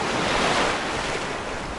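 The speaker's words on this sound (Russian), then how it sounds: "Оп, волны." Shallow sea waves wash onto a sandy shore of the Sea of Azov, a broad continuous rushing surf mixed with wind buffeting the microphone, loud and close with no voices.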